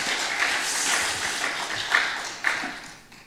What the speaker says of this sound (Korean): 우리 다시 한번 박수해 주십니다.